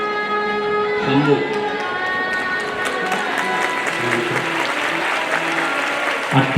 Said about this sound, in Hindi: जोरदार ताली हो गई।